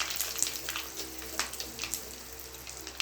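Fenugreek seeds, curry leaves, a dried red chili and asafoetida fry in hot oil for a tempering, giving a soft, steady crackle and sizzle with a few sharper pops, fairly quiet and close.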